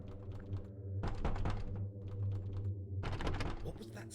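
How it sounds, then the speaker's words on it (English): A door rattles in the video game The Lost Crown, heard as two bursts of clattering knocks over a low, steady ambient drone. "we hear rattling"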